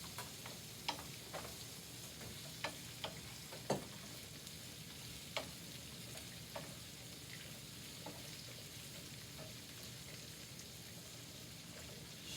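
Shrimp sizzling in a hot frying pan, a soft continuous crackle with scattered sharper pops and spatters, fairly quiet and with no voices.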